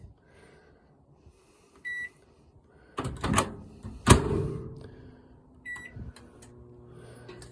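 A microwave oven in a Winnebago Fuse 23A motor home, powered by a Renogy 2000W inverter, starts up with a couple of short beeps and a thunk, then a low steady hum runs on with faint clicks.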